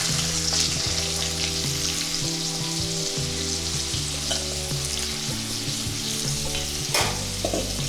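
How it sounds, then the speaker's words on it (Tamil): Boiled, drained potatoes frying in oil with popped mustard seeds for a Tamil potato fry. A loud, steady, close sizzle continues throughout, with no voices. "இப்போ அந்த வேக வச்சு ட்ரைன் பண்ண உருளைக்கிழங்கு இதில் சேர்த்துக்கலாம்."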